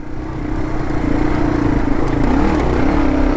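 An adventure motorcycle rides single track over sand, its engine droning steadily and fairly loud throughout with slight pitch wavers as the throttle shifts, no voices present.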